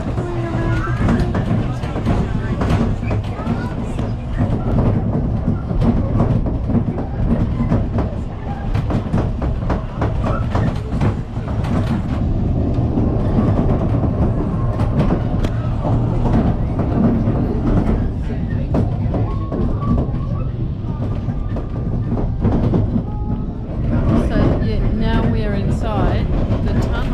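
Ffestiniog Railway steam train rolling along a spiral track near Porthmadog, a loud continuous rumble with steady wheel clatter and rattling carriages close by, with some talking mixed in under the noise.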